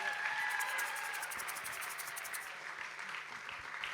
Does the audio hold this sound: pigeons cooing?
no